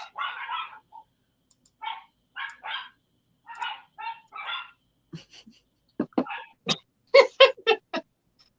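Dogs barking back and forth in short clustered bursts, as if answering each other, with sharp, louder barks toward the end and quiet gaps between.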